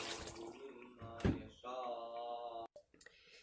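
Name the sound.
water being poured into a cooking pot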